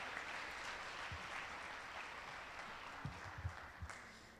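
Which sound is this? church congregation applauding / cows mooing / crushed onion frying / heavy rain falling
church congregation applauding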